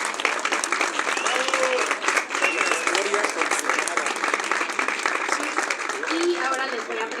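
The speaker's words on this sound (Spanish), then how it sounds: "Por favor, demos un aplauso a Daniel." An audience at a bullfighting book presentation applauds steadily and loudly throughout, a dense continuous clatter with some voices mixed in.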